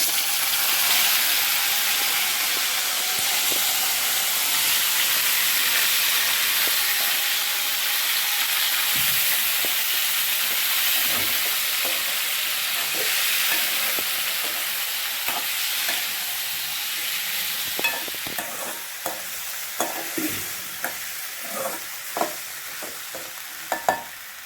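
Oil sizzling and frying during tempering for a lemon pickle, a steady bright hiss throughout with occasional stirring clinks and taps toward the end, no talk.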